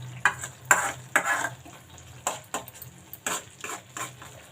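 Tamarind pulihora mixture with green chillies, curry leaves and ginger cooks in a pan, with repeated spoon scrapes and clatter over a soft sizzle, loud and close.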